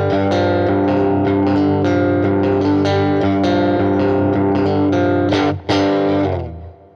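An electric guitar plays through a Vox Mini Superbeetle amp with gain up, giving loud, sustained distorted chords with a rich harmonic buzz, then a brief cut and a final ringing chord that decays.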